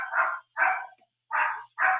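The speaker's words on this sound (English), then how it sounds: "There's my dog barking in the background." A dog barking in another room, four loud sharp barks in two evenly spaced pairs with short silences between, clear and unmasked.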